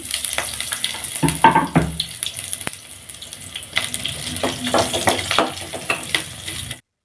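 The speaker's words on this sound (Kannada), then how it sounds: "ಇವಾಗ ಈರುಳ್ಳಿ ಎಣ್ಣೆಯಲ್ಲಿ ಚೆನ್ನಾಗಿ ಫ್ರೈ ಮಾಡ್ಕೊಂಡಾದ್ಮೇಲೆ" Chopped onions with cumin seeds frying in oil in a pan while cooking ragi mudde and rajma curry, a soft steady sizzle with intermittent stirring scrapes and clinks, no voices.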